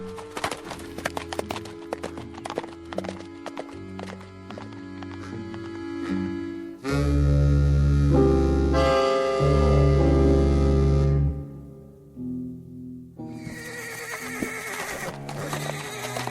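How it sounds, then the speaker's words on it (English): A horse in a Twilight Zone drama scene whinnies loudly and close by, with hooves clopping and dense tonal sounds running through the whole stretch. "Easy, horse, easy."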